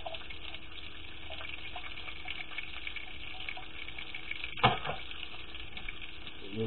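Canned oysters saute in a pan with a steady watery sizzle and bubbling, a single clatter of utensil against the pan partway through.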